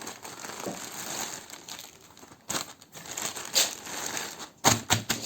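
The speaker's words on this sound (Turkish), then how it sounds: "Kargomuzu öncelikle açalım arkadaşlar." An MNG cargo shipping package is torn open and its plastic bag handled, giving crisp crinkling and crumpling rustles with a few sharper tearing bursts near the end, close up, with no talking.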